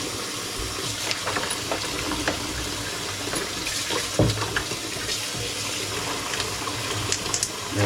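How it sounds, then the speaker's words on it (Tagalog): Tap water runs steadily and loudly, splashing continuously throughout, used to wet before soaping, with no voices over it. "Kailangan natin basain bago natin siya sabunin."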